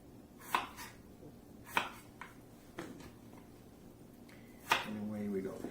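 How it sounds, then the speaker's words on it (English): A knife chops an apple into bite-sized pieces, several separate close, crisp cuts spaced apart with a quiet pause between them. "Just go ahead and cut your apple up into bite-sized pieces"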